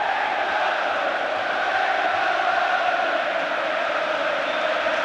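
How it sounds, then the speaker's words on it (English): A big Wembley Stadium football crowd roars after England score against Brazil in a 1990 international friendly, a dense, steady wash of cheering that holds at one level for the whole stretch with no distinct voices standing out. "That's got the crowd going."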